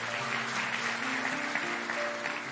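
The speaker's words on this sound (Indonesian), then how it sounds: "Kasih tepuk tangan untuk Tuhan Yesus." A church congregation applauds together during a worship service, a steady, dense clapping that fills the room evenly and sustains without breaks throughout.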